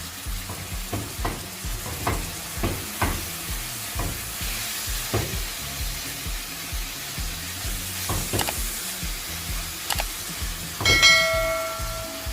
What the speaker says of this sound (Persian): با مواد سرخ میکنیم